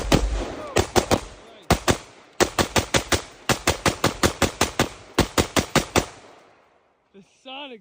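Loud gunshots at an outdoor shooting range fired in quick rapid strings, sharp close cracks in several bursts with brief pauses, then a short voice right after the firing stops.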